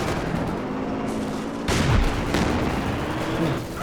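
A tank fires a long-range shot during a World War II real-time strategy match, a single loud boom with a short rumbling tail under a steady bed of battle noise.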